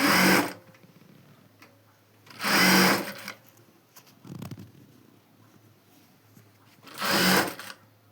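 Three bursts of a sewing machine run in short passes as it stitches the lining of a long frock, each burst loud and close and separated by quiet pauses with faint handling.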